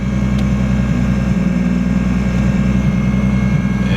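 A car with an RB engine idles while warming up, giving a steady, loud low rumble with an even pulsing throb and no revving throughout.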